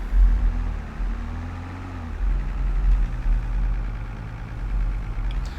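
A Fiat Agri tractor engine in Farming Simulator 22, a steady low idling rumble that shifts in pitch partway through, continuing loud and even with no talk.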